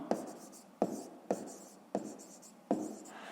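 Pen writing on paper in a maths exercise: five sharp scratchy strokes in a steady rhythm, close and quiet, with no voices.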